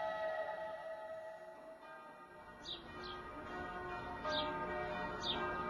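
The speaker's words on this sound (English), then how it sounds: "the bells ring out at the Church of the Holy Sepulchre" Church bells of the Church of the Holy Sepulchre in Jerusalem ring out at a distance, faint and layered, with birds chirping nearby over the open-air ambience.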